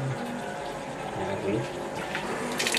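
Running water flows steadily from a tap while a keris dagger is washed with soap, with people talking briefly over the continuous splash.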